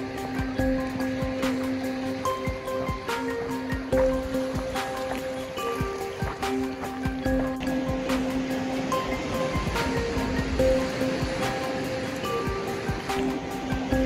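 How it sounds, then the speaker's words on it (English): Surf washing steadily onto Stokes Bay beach on Kangaroo Island, Australia, at sunset, a continuous broadband wash of waves with no talk, fairly close and even in loudness. "Look how beautiful this beach is at the time of sunset"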